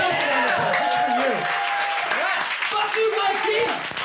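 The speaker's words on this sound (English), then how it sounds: "give yourself a round of applause" A live podcast audience applauds steadily for about four seconds, with voices and cheering mixed into the clapping throughout.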